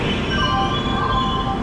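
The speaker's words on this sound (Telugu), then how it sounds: "ఆ ట్రైన్ వెళ్ళిపోతుంది" Another train rolls past a station platform beside a held special train, a steady close rumble with faint squealing metallic tones from the wheels, and no talk over it.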